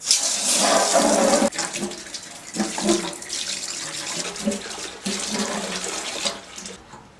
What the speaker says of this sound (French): Nous allons, dans un premier temps, rincer avec la centrale et de l'eau à environ 40 à 50 degrés.